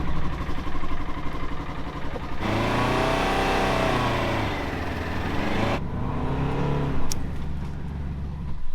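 An off-road side-by-side engine is started, then idles and revs with a steady mid-pitched drone that holds loud and close before easing back, with no talk over it.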